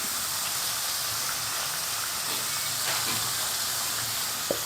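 Vegetables and salt frying in a pan for upma give off a steady, even sizzling hiss that runs unbroken throughout, with no talking over it.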